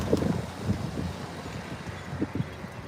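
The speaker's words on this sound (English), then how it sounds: "whoa, it's windy and cold." Cold gusty wind blows outdoors, a steady low rumble of buffeting against the microphone with a few stronger gusts, fairly quiet and with no talking.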